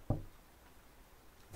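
Knocking on a shell in a video game, heard as one sharp knock near the start and another thump at the end, with quiet room tone between.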